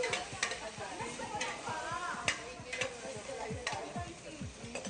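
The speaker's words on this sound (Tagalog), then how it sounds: "Siyempre, haluin mo" A soy sauce and vinegar mixture for a bagnet dish is stirred, with a spoon ticking rhythmically against the bowl over a steady hiss and a faint voice in the background.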